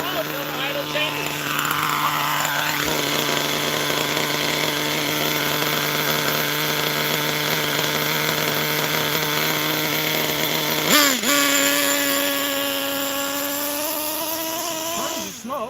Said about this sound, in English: Keep going on the low till the idle changes.